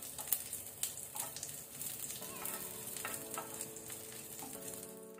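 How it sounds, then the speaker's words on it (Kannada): Crushed garlic cloves sizzle in hot oil over a low flame as tempering for a Mangalorean prawn curry, a soft, steady crackle with small pops and occasional stirring scrapes, fairly close, with no talking. "ಬೆಳ್ಳುಳ್ಳಿ ಕೆಂಪಾಗ್ಬೇಕು, ಲೋ ಫ್ಲೇಮ್ ಅಲ್ಲಿ ಇದನ್ನು ಫ್ರೈ ಮಾಡ್ಕೊಳ್ಳಿ ಕೆಂಪಾಗೋ ತನಕ."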